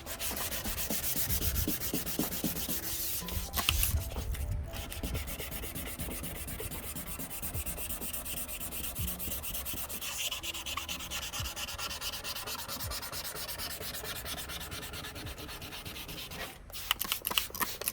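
Sandpaper scrubs steadily over the oxidized plastic lens of a 2012 GMC Denali headlight, a continuous close rasping rub lasting the whole stretch with only brief pauses, no voices.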